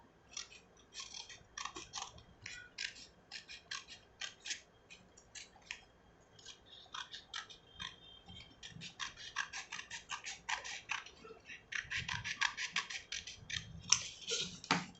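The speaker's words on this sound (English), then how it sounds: "Just fold it into half and cut it like this." Scissors snipping through a folded paper strip for a craft project, with repeated crisp close-up cuts in irregular bursts that grow denser and louder toward the end, no talk.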